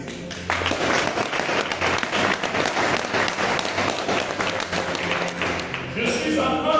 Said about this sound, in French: Est-ce que quelqu'un peut acclamer pour le Saint-Esprit?